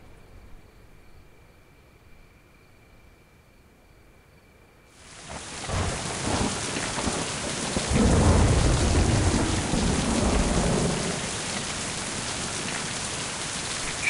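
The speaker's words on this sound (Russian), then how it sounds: "Нашел я место с дождем." Rain and thunder in the video game Mind: Path to Thalamus Enhanced Edition: after a quiet stretch, heavy rain abruptly starts pouring as a steady hiss, with a deep rolling thunder rumble swelling partway through before easing back into constant downpour.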